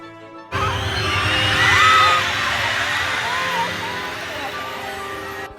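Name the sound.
crowd screaming and cheering as Elsa enters at Disney on Ice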